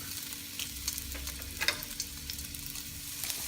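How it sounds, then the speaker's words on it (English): Chopped onion sizzling in a hot frying pan, a steady crackle of frying with a few brief stirring clinks, close and moderately quiet, no talking. "Put our onion. Let it cook for a minute."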